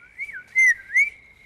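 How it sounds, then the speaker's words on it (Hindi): Someone whistles at a woman with a tonal, wavering whistle, a low sliding phrase followed by two louder rising-and-falling catcalls, close and clear with no talk over it. "शर्म नहीं आती अपनी मम्मी को सीटी मारते हुए?"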